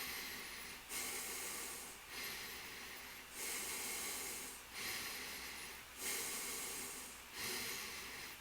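Breathing in and out through the nostrils close to the mic, a steady rhythm of soft airy hisses, each swelling and fading, about seven breaths with no talking.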